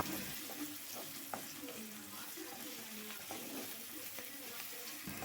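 Spices, curry leaves and ginger-garlic paste fry in a pan for a dried fish curry, giving a faint, steady sizzle with light stirring scrapes throughout.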